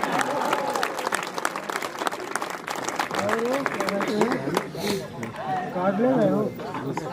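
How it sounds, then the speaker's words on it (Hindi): An audience at a Hindi comedy poetry gathering claps steadily, a dense rattle of applause that runs throughout while a voice and crowd murmur carry on underneath. "ताली बजाइए, एनर्जी मिलती है।"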